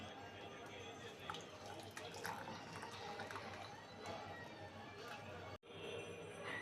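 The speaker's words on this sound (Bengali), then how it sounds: "আমি চাটা ঢেলে নেবো" Hotel-style milk tea pouring from a pan into a cup, a steady close liquid trickle running for several seconds before a brief break, with faint background sound.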